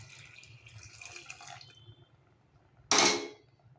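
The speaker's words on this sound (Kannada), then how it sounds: "ಇವಾಗ ನಾನು ಕಾಯಿಸ್ಕೊಂಡಿರೋ ಬಿಸಿನೀರು ಹಾಕ್ತಾಯಿದ್ದೀನಿ" Hot water is poured into a pot for bitter gourd gojju, a short, bright splash lasting about half a second that follows faint clinks and quiet kitchen noise.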